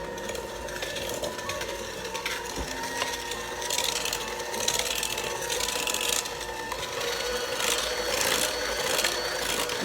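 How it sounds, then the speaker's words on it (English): An electric mixer whirs through eggs, vanilla, butter and sugar for chocolate chip cookie dough, a continuous close grinding drone with rubbing, scraping texture and no pauses. "Now I'm going to mix the eggs, vanilla, butter, and sugar all together."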